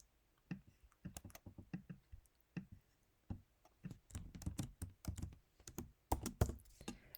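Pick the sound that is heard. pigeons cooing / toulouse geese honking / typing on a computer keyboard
typing on a computer keyboard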